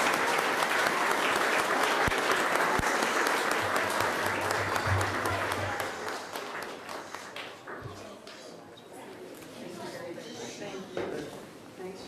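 A large seated audience gives sustained, loud applause for the departing Governor General's party, with the clapping slowly thinning and fading into murmuring chatter and shuffling.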